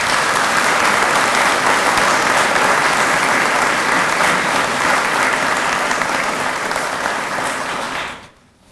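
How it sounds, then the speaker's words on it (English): Loud, sustained applause from a large audience at a college building announcement event, a thick wash of clapping that holds steady for several seconds before cutting off abruptly at the end. "That deserves a round of applause."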